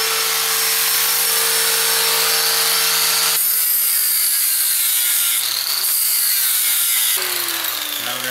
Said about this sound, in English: I hate to get too close with a cutoff wheel.